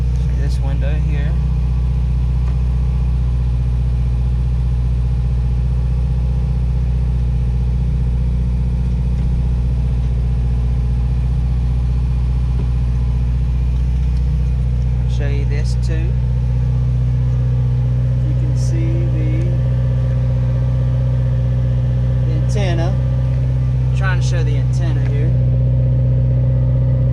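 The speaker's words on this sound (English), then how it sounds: "So now the car has idled itself back down." After a cold start, a car engine idles with a loud, constant low hum that holds steady throughout, while someone speaks briefly in the background.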